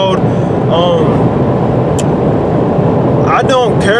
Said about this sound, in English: The road noise is just extremely loud.